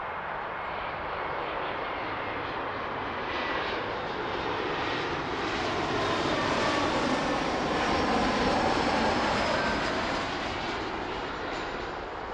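An Air Canada Embraer E175 jet landing at Toronto makes a steady, broad engine roar that swells slightly toward the middle and then holds, loud and continuous, with no talking over it.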